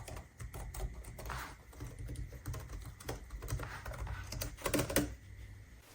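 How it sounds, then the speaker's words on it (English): Fingers type on a ProtoArc EKM01 Plus ergonomic wireless membrane keyboard, producing a quick, uneven run of soft, muted key clicks that sound close and fairly quiet, with occasional heavier strokes and no talk. "This is a membrane keyboard, so the actuation distance is pretty high."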